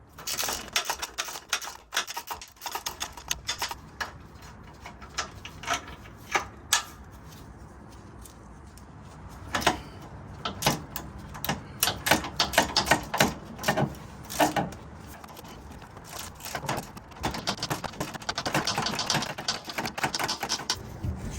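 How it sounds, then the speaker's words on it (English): Flex head ratcheting wrench loosening 14mm body mount bolts on a 3rd gen Toyota 4Runner: long stretches of rapid, fine ratchet clicking in bursts, close but moderately quiet, with brief pauses between runs. "a little bit more advantage with this flex head ratchet, and I was able to get on there and loosen it up"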